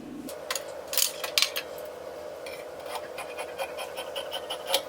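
Scissors snipping through fabric pieces for a fitted bubu gown, a series of close, light crisp cuts in irregular bursts over a faint steady hum.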